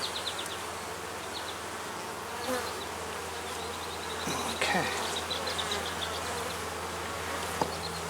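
Dense, steady droning buzz of many honeybees in an opened hive box in a queen-rearing yard, continuous throughout with a brief spoken word over it.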